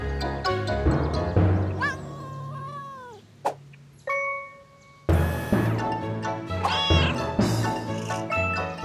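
A cartoon cat meowing repeatedly in drawn-out, wavering cries amid lively animated music and effects, with bursts of other cartoon sounds in between.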